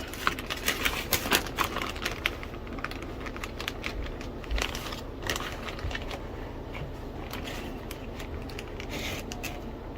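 A paper towel holding sprouting store-bought pinto beans is opened, giving rapid papery crackling and crinkling that is busiest at the start and then settles into softer rustling.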